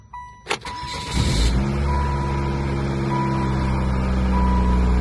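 An old high-mileage Saturn, a GM four-cylinder car, starts up with a sharp click and catch, then settles into a loud, steady idle that drones on close by, with faint electronic beeping over the top.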